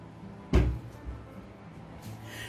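A kitchen cabinet door in a timeshare condo opens or closes with a single sharp thud, followed by a faint second knock in a quiet room.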